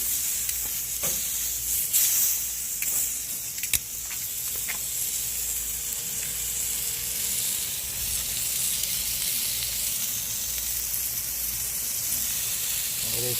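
Ribeye steak sizzling on a copper grilling mat just after being flipped, a steady close hiss and crackle running throughout with a few sharp pops near the start, no talking.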